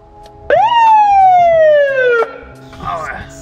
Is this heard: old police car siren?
yes